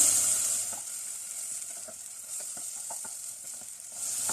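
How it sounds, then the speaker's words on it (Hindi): Garlic and ginger paste sizzles steadily in a hot pan while chicken keema is cooked, a continuous bright frying hiss with faint stirring scrapes and no voices. "ज़रा सा लहसुन अदरक को इसमें फ्राई करने के बाद चॉप किया हुआ टमाटर डाल देंगे इसमें।"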